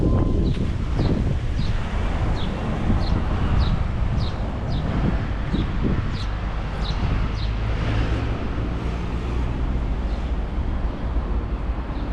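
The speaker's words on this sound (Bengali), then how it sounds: "অনেক বাতাস" Strong wind buffets the microphone on a high hilltop in Toledo, Spain. It makes a loud, continuous roar throughout, with small birds chirping faintly in a repeating pattern.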